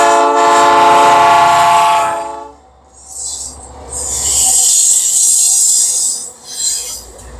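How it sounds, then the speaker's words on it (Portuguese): A loud, close Rumo freight train horn blares for two seconds, then the heavy grinding and screeching of the passing train's wheels and cars, heading toward Mato Grosso do Sul, Brazil. "Lá vem um trem, viu?"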